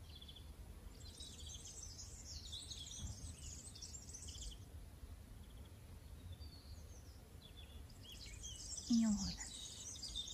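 Birds chirp faintly outdoors in scattered bursts during a calm stretching session, with a soft spoken voice briefly over the quiet background.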